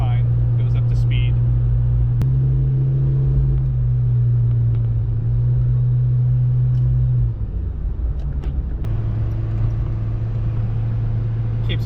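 A Nissan Be-1's engine hums steadily from inside the cabin, its pitch rising with acceleration on the road, dipping briefly at a gear change, then climbing again.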